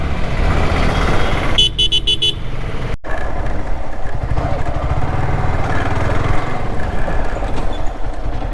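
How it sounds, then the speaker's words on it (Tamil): Heavy road traffic on a congested street in India, with a dense continuous engine rumble, a burst of repeated horn toots early on and more honking scattered through the noise, no talk. "அதனால் ரொம்ப டிராஃபிக் ஆயிடுச்சு."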